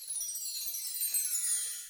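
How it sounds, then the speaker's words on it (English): A bell tree roll used as percussion just before the prelude of a Christmas song: a bright, shimmering cascade of tiny metallic chimes that sweeps down steadily for about two seconds, heard alone. "we've got a bell tree roll as well,"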